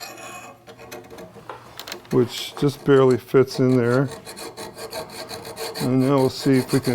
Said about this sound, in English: Now this is draw filing.